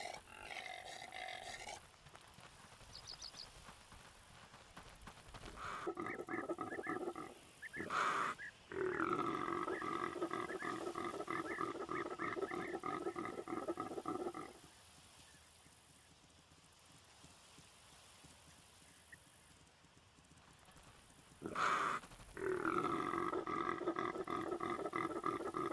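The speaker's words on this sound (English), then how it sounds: "The rutting calls of the Impala attracted the attention of the two lioness." Male impala rutting calls in the Roblox game Wild Savanna: deep, rough grunting roars come in several sustained bursts separated by short quieter gaps, heard clearly with no talking.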